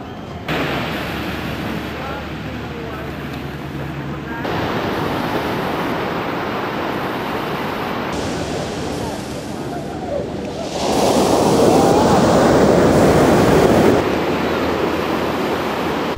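Ocean surf on Fisherman's Beach in the Algarve, Portugal, a loud continuous wash of breaking waves that swells louder near the end, with wind buffeting the microphone.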